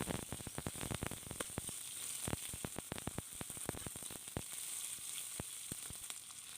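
Chopped onions frying in hot oil in a pan while Odia-style Amruta Bhanda santula is cooked, a continuous close sizzle broken by sharp crackling pops and stirring scrapes.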